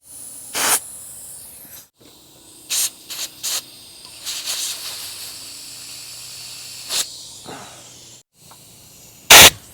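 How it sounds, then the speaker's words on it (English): Brake fluid squirting from the brake system of an abandoned 44-year-old Chrysler, several short sharp hissing sprays in irregular bursts, the last one loudest, separated by quiet gaps. "Squirting the brake fluid all over the place"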